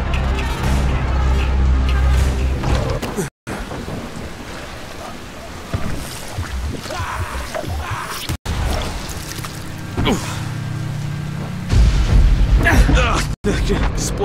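A loud, rumbling explosion in the zombie survival game Dying Light, set near an antenna mast at a fenced substation, thundering over heavy low-end noise with broad bursts and short gaps. Speech is mixed in.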